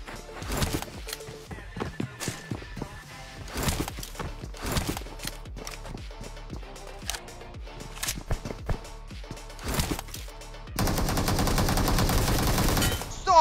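Gunfire rings out in PUBG Mobile on a desert map: sharp irregular single shots and short bursts of varying loudness, some near, some farther off. The shots end in a sustained, dense noisy roar.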